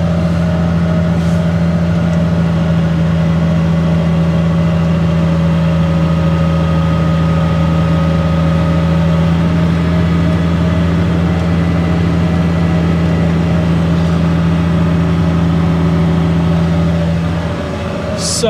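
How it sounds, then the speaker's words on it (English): A car engine holds steady, elevated revs at a paddock test day, loud and close with a constant droning pitch throughout. "Let's give us some revs."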